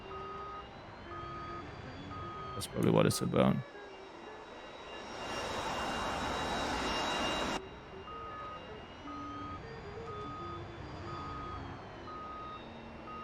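A warning tone beeps at regular intervals in the AJS-37 Viggen cockpit in DCS World over a steady engine drone, broken by a brief clatter and a burst of rushing noise, with someone speaking briefly.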